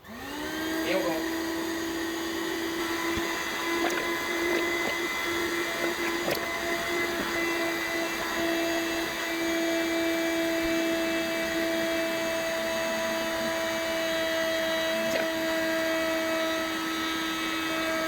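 An electric air pump roars steadily while it inflates an air mattress, a loud constant drone with a whining tone that starts abruptly and holds unbroken throughout, with a few faint clicks over it.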